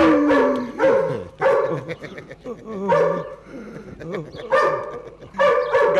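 A dog barks in repeated loud bursts, close by, mixed with voices and whining sounds between the barks.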